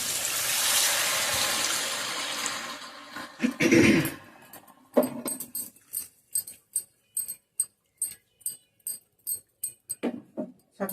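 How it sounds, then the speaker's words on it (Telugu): Water is poured into a pan of frying fish curry, with a loud sizzling gush followed by a series of short, regular scraping or tapping sounds up close. "ఈసారి మనం కొద్దిగా వాటర్ పోద్దాం."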